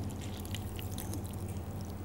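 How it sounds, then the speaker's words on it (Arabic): Water is poured into a bowl of flour to make dough, a steady soft wash of pouring over a low background hum, with no talking. "هلا رح نضيف الماء"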